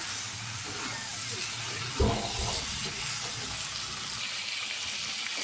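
Soybean chunks frying with chicken in a pan, a constant soft sizzle and hiss. A brief louder stir or clatter comes near the middle, and the whole sound stays fairly quiet.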